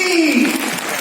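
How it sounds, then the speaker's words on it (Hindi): An audience at a Haryana Day stage show applauds a performer's assistant, a brief dense burst of clapping mixed with a carrying voice and faint background tones. "जमूरे के नाम की तालियां तो बज गई"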